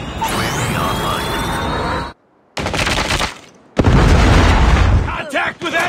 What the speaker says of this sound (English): Friendly predator missile inbound.